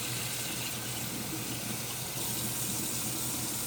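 Tap water runs steadily over aquarium parts as they are rinsed clean, a continuous close hiss of flowing water with no voices.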